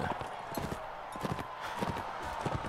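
Rapid clip-clop of horse hooves galloping in Mount & Blade: Warband during a horse archery tournament round, a steady rhythmic pounding, close and continuous under the game's ambient noise.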